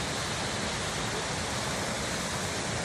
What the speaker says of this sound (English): here at the park, a beautiful waterfall.